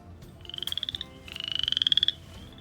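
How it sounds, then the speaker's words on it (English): A chorus frog gives two close, clear trilled calls, each a rapid run of rising pulses like a thumb drawn along a comb's teeth, over a quiet background. "That belongs to the chorus frog."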